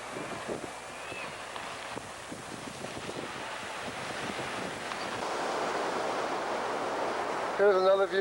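Ocean surf breaking on a beach at a river mouth, a steady broad wash of waves with wind buffeting the microphone, swelling louder toward the end.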